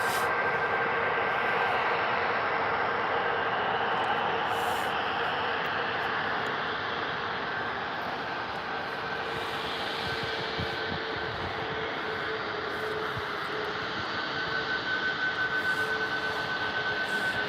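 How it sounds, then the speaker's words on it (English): A Jet2 Airbus A321 and a Ryanair Boeing 737 taxi at Birmingham Airport, their jet engines making a steady, continuous roar and whine that stays loud and even throughout, with no talk. "Jet2 A321 heading out. Ryanair 737 making its way down a taxi."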